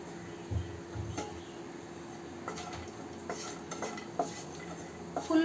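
A utensil stirs cashews frying in a pan over full flame, giving light scraping and clinking taps against the metal above a faint, steady sizzle.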